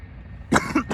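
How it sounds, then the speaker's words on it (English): A quiet background hum, then a man clears his throat twice in short, rough bursts, close by. "Let me clear my throat real quick."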